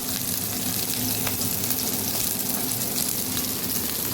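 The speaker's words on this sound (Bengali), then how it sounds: "আর এটা এখন ভেজে নিচ্ছি" Oil frying in a kadai before eggs go in, a dense, even sizzle that holds steady and loud throughout, close to the pan with no talking.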